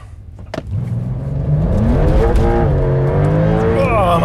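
A sports car launches hard from a standstill in manual mode: a brief blip, then a loud engine note climbing rapidly through the revs, with a gear change and a faint hint of tire squeal as it pulls away.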